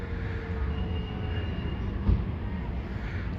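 A subway train rumbles steadily at the Coney Island station in New York, a continuous low roar with a single brief clank partway through, fairly close and with no talk over it.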